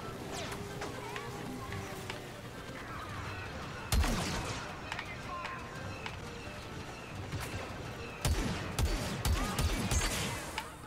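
Gunfire during the Battle of Endor in Star Wars Battlefront II, sharp repeated blaster shots and a few louder bursts over a busy battle din, with someone talking over it.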